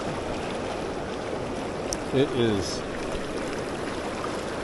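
An evening creek running high after heavy rain gives a steady, broad rushing wash of water close by, with a brief spoken phrase and a faint splash partway through.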